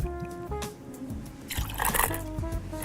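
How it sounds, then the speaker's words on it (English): Inverroche Verdant gin poured as a double into a glass of ice, with soft drips and a brief liquid splash among small clinks, close and fairly quiet. "I'm going to do with my Inverroche Verdant for our perfect serve is I'm actually going to pour a double."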